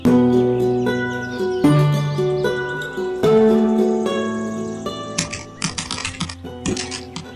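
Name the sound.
typewriter keys being pressed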